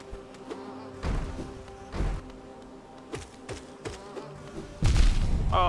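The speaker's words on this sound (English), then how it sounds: "That's a big bee." A big bee enemy in the video game Hollow Knight buzzing steadily, with a low insect drone under a few soft thumps and hits, no voices.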